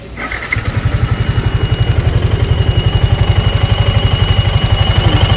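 A Yamaha Sniper 155R motorcycle engine, after a water pump repair, starts and settles into a steady, throbbing idle, loud and close, with a rapid even pulse.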